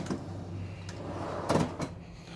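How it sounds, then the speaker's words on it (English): A full-extension drawer in a Prevost H3-45 bus conversion slides on its runners and thuds shut, a few distinct knocks over a low steady background hum, with no talking. "Full extension drawers underneath the booth."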